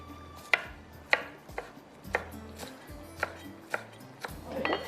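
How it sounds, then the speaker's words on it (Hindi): Knife chopping fresh green coriander finely on a board, about eight sharp, evenly spaced close taps with no talk. "हरा धनिया है, इसको मैंने ब्लेंडर में नहीं डाला, इसको मैं थोड़ा सा बारीक चॉप करके डालूंगी"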